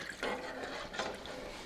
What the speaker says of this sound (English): 1/4 cup of dry white wine.